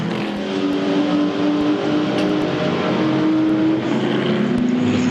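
Ford GT40 race car leading the field at the Le Mans Classic, a loud engine roar held for the whole stretch with a rising and falling pitch as it drives past, and no one speaking.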